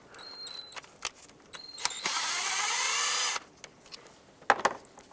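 A power tool spinning a 10mm socket to remove a bolt on a 2003-09 Toyota 4Runner's ignition coil: a few short ratcheting clicks, then one sustained whirring burst of about a second, with light handling taps after.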